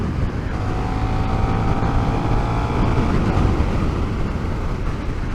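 A 2024 KTM 1390 Super Duke R motorcycle cruises steadily on open roads in Scotland, mostly held in fourth gear, its engine drone loud and constant beneath heavy wind rush at the helmet.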